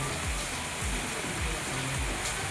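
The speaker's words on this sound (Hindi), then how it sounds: "भयंकर बारिश हो रही है।" Heavy nighttime rain pours down in a steady, dense hiss of water, constant and loud throughout with no pauses.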